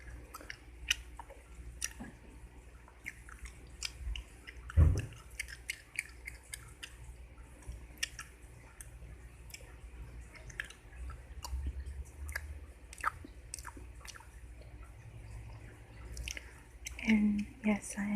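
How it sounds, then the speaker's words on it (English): Mint chewing gum chewed very close up, with wet squishy smacks and soft clicks in an irregular rhythm over a quiet background, and a louder snap about a third of the way through. "this is the first time that I've actually chewed gum in"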